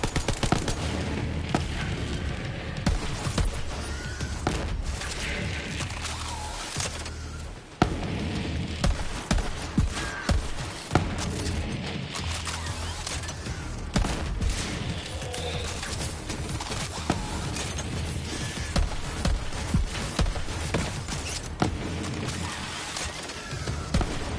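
Gunfire in the shooter game Borderlands 3 rattles through constant rapid bursts mixed with booms and crashes over a loud game soundtrack, with one short pause in the middle.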